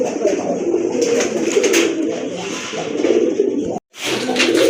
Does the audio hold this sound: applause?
no